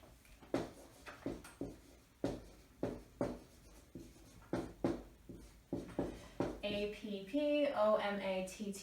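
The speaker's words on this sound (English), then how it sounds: "let me write the name down up here" Marker or chalk strokes on a classroom board, a steady run of short scratchy squeaks and taps at close range, with a brief murmur of voice near the end.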